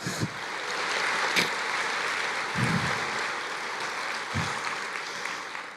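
Congregation applause at a church worship service, a steady broadband wash of clapping that holds evenly through the whole stretch, with a few louder low thumps standing out from the crowd.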